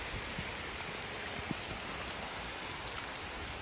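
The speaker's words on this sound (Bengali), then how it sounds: "পুরো বৃষ্টি হয়ে গেছে গা" Steady rain falls outdoors, a dense even hiss of drops on surfaces with no talk, continuous and moderately loud throughout.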